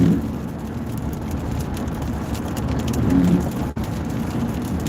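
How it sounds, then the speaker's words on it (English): Steady rain drums on a truck moving along a highway in a live drive, with a broad even wash of road and rain noise and no talking. "It's starting to rain a little more persistently."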